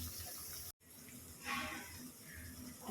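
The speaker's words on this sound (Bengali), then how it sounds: "জল দিয়ে দিলাম।" Water is poured into a pan of paneer keema masala, making a faint, brief splashing rush that swells midway and then fades, heard without talk.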